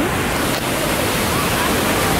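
A waterfall in Bali, heard as a steady, loud broadband roar of rushing water that fills the whole stretch without a break.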